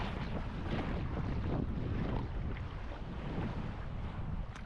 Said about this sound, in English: it's a bit windy, so it's a bit kind of chillier than that